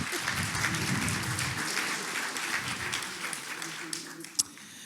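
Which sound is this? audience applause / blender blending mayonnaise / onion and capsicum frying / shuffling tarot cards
audience applause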